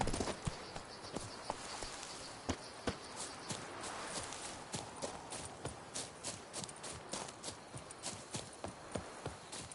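Rhythmic hoof clip-clops of a horse galloping in The Witcher III video game, steady repeated beats at moderate loudness over a soft ambient bed, with no talk.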